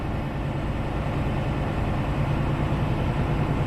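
A truck engine idles steadily while building air brake pressure, a constant low rumble close by with no change in pace and no talk.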